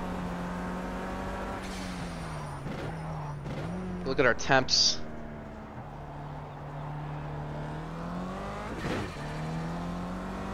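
A KTM X-Bow driven in the racing sim Project CARS, its engine droning steadily, rising and falling through revs with a sharp burst of acceleration midway and brief tire noise, while someone talks over it.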